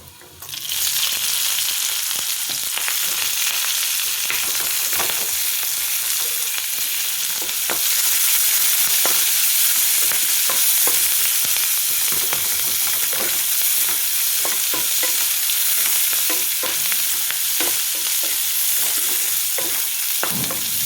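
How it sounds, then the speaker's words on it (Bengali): Onions and green chillies fry in hot oil with garlic, a loud, continuous bright sizzle that swells partway through, punctuated by frequent scraping stirs of the pan, close by and with no voices. "এখন পেঁয়াজ আর কাঁচামরিচ দিয়ে দিই"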